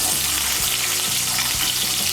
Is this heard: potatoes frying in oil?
yes